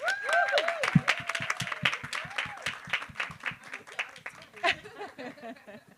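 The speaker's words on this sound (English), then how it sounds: "With a warm round of applause." An audience at a women's wealth and work event claps to welcome a speaker back on stage, distinct rhythmic claps close by alongside a sung or voiced melody, with the clapping fading toward the end.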